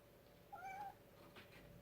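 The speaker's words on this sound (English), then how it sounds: "Cat wants in to the closet." A house cat gives one faint, short meow while waiting to get into a closet, with a softer rustle or breathy sound following it in an otherwise quiet room.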